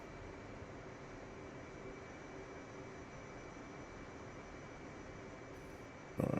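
An F/A-18 Hornet's afterburner in the DCS flight simulator produces a steady, even jet roar that holds without change, fairly quiet in level throughout.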